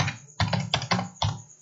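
Keystrokes on a computer keyboard while entering a line of code, a few separate bursts of clicks with short pauses between them, close and clear with no talking.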